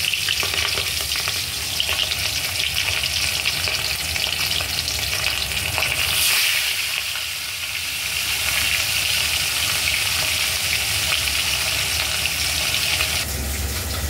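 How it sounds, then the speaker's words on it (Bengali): Rohu fish heads fry in hot oil with a loud, continuous sizzle and bubbling crackle that dips briefly near the middle, then holds strong before cutting off. "আগে মুড়োগুলো ভেজে নেব।"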